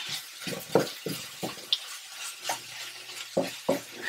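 Ground pork taco filling being mixed in a pan gives rhythmic scraping and sticky stirring strokes, about eight distinct close pushes with brief gaps between, and no voices.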